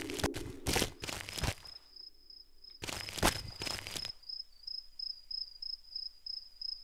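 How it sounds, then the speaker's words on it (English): Crickets chirp in the video game Cry of Fear in a steady, high, pulsing trill, broken early on by several loud, sharp thumps and rustling bursts. "Yay, the sound of fucking crickets."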